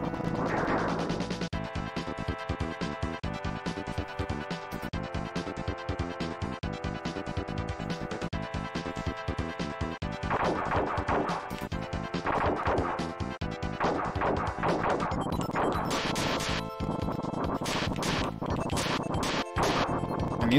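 Crunchy, loud hit and smash effects from the Super Earth Defense Force arcade shooter, rapid repeated impacts over constant game music and explosions, dense and steady throughout.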